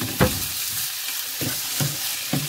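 Potatoes stir-fried Korean-style in a pan sizzle steadily and loudly up close, with a spatula scraping and tossing them in a few rhythmic strokes.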